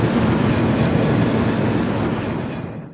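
A train rolling past in the video game Afterfall Reconquest, a loud, dense rumble with rail clatter that holds steady and then fades slightly at the end, with no talk.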